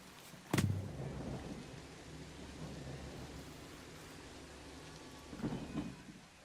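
Rain falls steadily in Planet Coaster 2, a constant hiss broken by two short rumbling thunder cracks, one near the start and a softer one toward the end.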